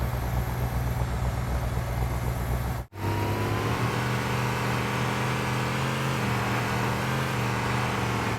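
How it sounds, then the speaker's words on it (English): The Warthog vehicle engine from the video game Halo: Combat Evolved drones with a steady, hum-heavy idle, breaks off in a brief silent cut, then resumes as a strong, rising engine note, loud and alone. "let's compare it to the engine notes of some Warthogs from a few different Halo games"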